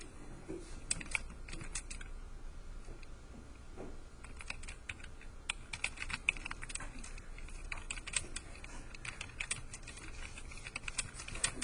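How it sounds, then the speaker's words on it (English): Someone types steadily on a computer keyboard, a continuous run of quick, close key clicks with brief pauses and no talking. "And I'm typing this up so you guys have something to look back at."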